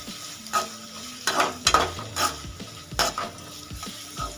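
Onions sizzle steadily in a hot pan while a spatula scrapes and clinks in irregular stirring strokes, with no talking.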